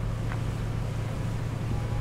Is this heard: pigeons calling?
no